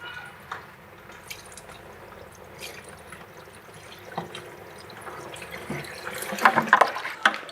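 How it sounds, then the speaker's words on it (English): Engine coolant is poured from a bucket into a car's cooling system after a thermostat replacement, giving soft trickling and dripping that grows into louder splashy gurgles toward the end. "I gotta pour it from a bucket"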